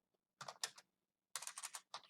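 Quick keystrokes on a computer keyboard entering a sudo dd command, arriving as two short close bursts of rapid clicks with a pause between them, then a final brief tap.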